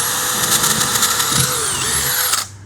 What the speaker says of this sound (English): So I'm using a 3/16 drill bit